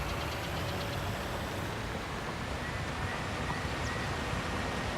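Tractor engine in Farming Simulator 19, a steady dense drone running continuously without any break, with a faint rattle and a constant broadband rumble throughout.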